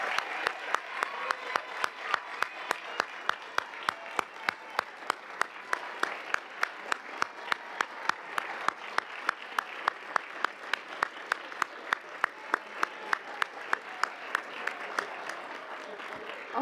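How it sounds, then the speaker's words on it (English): An audience at a school board meeting applauds its teachers, a steady, continuous clapping from a sizable crowd that holds its level for the whole stretch without talk rising above it. "Please join me in a round of applause for all our teachers tonight."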